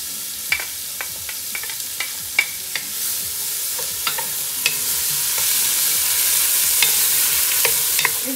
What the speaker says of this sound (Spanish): nos vamos a traer primero a freír al último el tomate, la cebolla y el bell pepper rojo